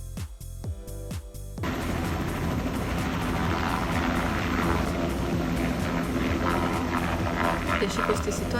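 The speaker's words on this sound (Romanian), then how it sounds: "O parte palpitantă a vizitei noastre a fost călătoria cu elicopterul pe deasupra New Yorkului." Inside a helicopter flying over New York, a loud, steady engine and rotor roar fills the cabin after a few rhythmic thumps at the start. It stays dense and constant throughout.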